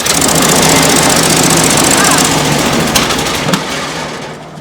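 A Honda small engine on a Mechmaxx DCH7 wood chipper roars loud and steady close by, then eases off slightly toward the end.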